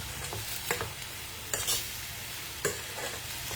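Food sizzles steadily in a hot pan while a utensil stirs it now and then, adding a few brief scraping bursts over the constant frying hiss, heard close with no talk.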